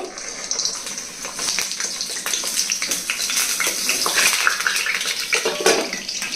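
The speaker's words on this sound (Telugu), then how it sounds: "ఇదిగోండి ఆయిల్ వేడైంది ఇప్పుడు కట్ చేసి పెట్టుకున్న వంకాయలు వేసేయాలండి" Large cut eggplant pieces dropped into hot oil in a home kitchen pan, a continuous bright sizzling hiss with scattered clatter and taps from the pieces landing and shifting.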